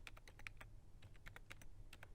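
Quiet, close typing on a computer keyboard, a fast irregular patter of soft key clicks with no voice over it, as someone writes an email to an important client.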